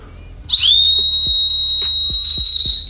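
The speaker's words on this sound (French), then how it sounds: "elle a un sifflet à l'arrière qui fait un son vraiment reconnaissable" A sharp, piercing whistle built into the heel of a New Balance 574 Yurt sneaker sounds after a faint thud, then holds one steady, very high, loud tone for more than two seconds, with soft knocks underneath.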